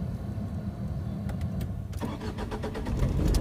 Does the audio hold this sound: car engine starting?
yes